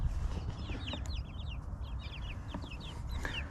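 Baby chicks cheep in rapid, high, overlapping peeps that run steadily throughout. The sound is fairly faint against an outdoor background hum.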